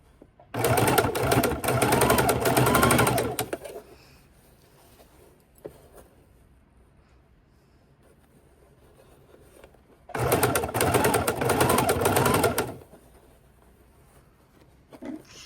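A sewing machine stitches double-sided bias binding onto a baking dish cover in two separate bursts of rapid, steady whirring, with a quiet pause between them.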